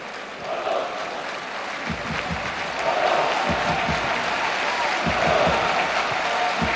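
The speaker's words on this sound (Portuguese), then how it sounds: "Bastantes aplausos no Estádio das Antas." Crowd applause fills a football stadium at a 1993-94 UEFA Champions League match between FC Porto and Werder Bremen, a steady distant roar of clapping with bursts of claps swelling midway and holding to the end.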